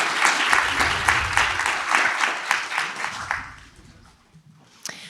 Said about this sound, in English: I would love to offer a round of applause because this is a big accomplishment for her.